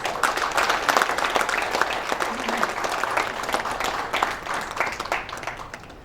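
Audience applause for a guest at an MSME business meet, a dense, loud wash of many hands clapping that holds steady for several seconds and then begins to thin out.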